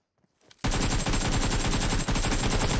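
Sustained rapid automatic AK rifle fire in a video game bursts in suddenly after a brief quiet moment, loud and continuous, with a dense rattling rhythm and no voices over it.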